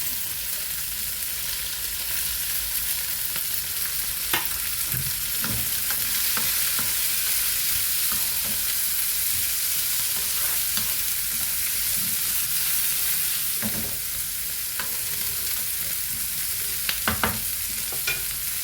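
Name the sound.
onions and curry leaves frying in a pan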